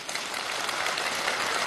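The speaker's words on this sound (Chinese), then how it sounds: "掌声欢迎他。" Studio audience applauding to welcome a guest on a televised show, a dense, steady wash of clapping heard alone for a brief moment.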